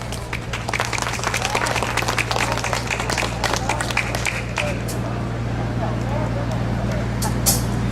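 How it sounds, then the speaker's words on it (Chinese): An audience claps at a gospel evangelistic meeting before a song begins, a busy spread of handclaps over a steady low hum, with a few louder claps standing out as it thins. "来给我们个掌声来"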